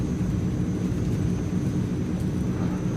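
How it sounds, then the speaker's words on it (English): Steady low rumbling drone of a Transall C160 cargo aircraft's engines during takeoff in Microsoft Flight Simulator, constant and heavy with a faint high whine above it. "we are just taking off by itself because of the flaps configuration"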